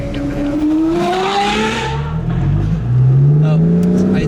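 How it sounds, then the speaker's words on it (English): A straight-piped Lamborghini Revuelto V12 downshifts nearby, loud and raw, its engine note sliding through falling pitches with blips between gears, while voices talk over it at a car week event. "The downshifts that big. V12, it's a wow."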